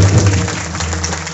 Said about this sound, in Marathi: तुम्ही सगळे सगळ्यासाठी एकदा अशा जोरात टाळ्या वाजवा.